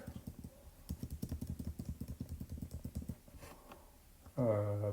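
Quick bursts of typing on a computer keyboard, a fast run of soft, close key clicks that stops short, followed by a brief tonal sound at the end.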